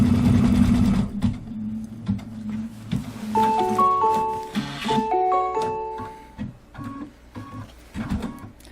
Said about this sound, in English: let's go ahead and put the foot down and stitch out the placement line for the glitter